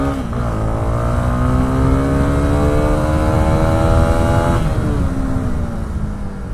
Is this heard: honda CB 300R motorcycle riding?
yes